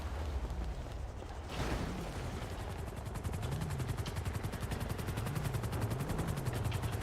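Automatic gunfire crackles in a GTA roleplay game scene near a gun store robbery, rapid steady bursts of shots repeating under a continuous engine-like drone, moderately loud and sustained.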